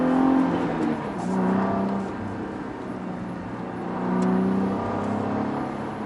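A Cadillac ATS-V manual sport sedan on a winding road, its engine note droning and swelling in slow waves as it accelerates and eases off, with steady tyre and wind rush underneath.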